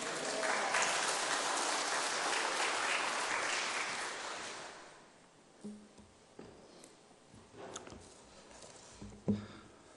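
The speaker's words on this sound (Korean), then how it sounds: "나오실 때 할렐루야로 하나님께 영광 돌리며 박수로 환영하겠습니다." A church congregation applauds to welcome a speaker at a Sunday service: loud, dense clapping for about four seconds, then fading to scattered claps and faint rustling.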